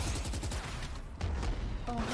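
Gunfire in Valorant during a school tournament match, with rapid bursts of shots and crackling weapon fire in quick succession, loud and busy, overlaid with game effects.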